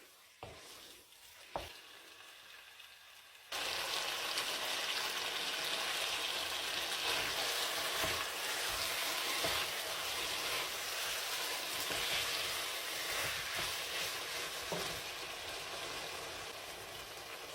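Carrots going into a stew pot, a sudden loud steady sizzle after a few seconds of quieter clatter, continuing evenly and strongly to the end with no talking.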